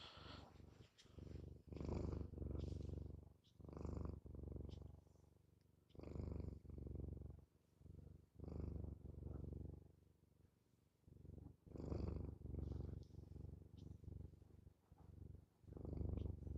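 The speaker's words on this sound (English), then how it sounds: "The smallest purr." A pet cat purrs close by in a steady series of soft rumbling cycles, each breath forming a regular pulse of low vibration, with no voices over it.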